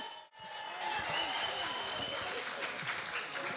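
A small audience at a beetleweight combat robot tournament breaks into applause and cheering after a brief pause. The clapping is faint but steady and continuous to the end.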